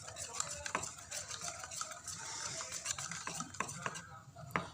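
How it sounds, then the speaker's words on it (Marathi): Jaggery being whisked into a mixture in a bowl, a steady close scraping and stirring with light clinks against the bowl, continuous for the whole stretch. "थोडं हे घेते फेसून"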